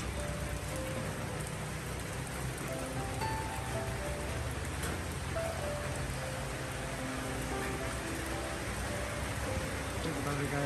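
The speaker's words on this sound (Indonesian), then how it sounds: "Kelihatan nggak airnya turun ya, turun dari langit." Heavy rain pouring down over an outdoor garden of aglaonema plants, a dense steady hiss of drops hitting surfaces, loud and unbroken throughout.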